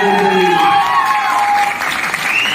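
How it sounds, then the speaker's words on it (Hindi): Audience applause at a motivational business seminar in India, a loud sustained wash of clapping that holds steady throughout with no speech over it. "मैं चाहूंगा सर उनका नाम लेने से पहले एक तब तक की शानदार ताली होनी चाहिए।"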